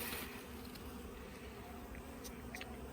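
Honey bees buzz steadily around a two-frame nuc box on a farm, a dense, close swarm hum with no talking.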